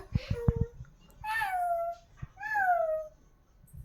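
A baby girl imitates a cat's meow, giving two drawn-out, wavering meows in a row after an adult's brief spoken prompt close by.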